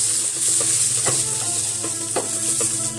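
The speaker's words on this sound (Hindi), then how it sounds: "सभी चीजों का हम थोड़ी देर फिर भूनेंगे।" Paneer and vegetables frying on a high flame for a Lachhedar paneer roll give a steady loud sizzle with occasional stirring scrapes and taps, close and continuous, with no talking.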